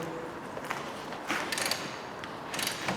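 Wrench undoing an 18 mm suspension nut under a Peugeot 407, giving short creaking, ratcheting mechanical clicks in a few bursts, close by with no talking.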